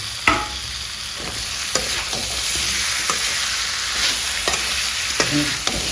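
Tomatoes frying in a hot pan for a pork curry with a constant sizzle, punctuated by several sharp spatula scrapes and taps at irregular intervals.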